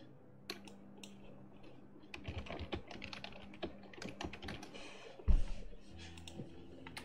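Rapid, quiet clicking of typing on a computer keyboard, close by and continuous, with a louder thump partway through and faint background game sounds.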